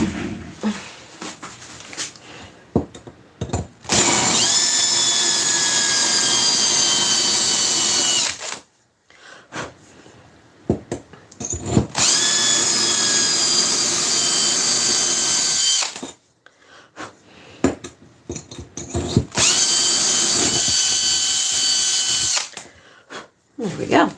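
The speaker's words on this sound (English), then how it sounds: "Let me get the drill." A power drill whirs in three long, loud bursts separated by pauses, each rising then holding steady, with people talking quietly in between.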